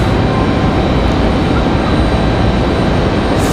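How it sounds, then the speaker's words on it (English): A JetBlue Embraer E190 jet airliner from Boston arrives at Raleigh-Durham airport, a steady, even broadband engine roar that fills the whole moment without pause. "this one coming in from Boston. That's E190."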